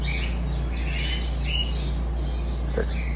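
Small birds chirp and squawk in short bursts over a steady low hum, the calls moderately close and overlapping, with no talking.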